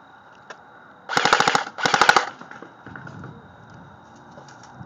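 Airsoft guns firing during an outdoor airsoft game in New Mexico: two rapid full-auto bursts, each about half a second of quick sharp pops, close and loud, followed by fainter scattered shots.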